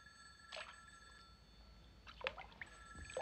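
A 1950s telephone bell rings in short, steady bursts with pauses in between, its tone sharp and metallic against a quiet room, and no one speaks.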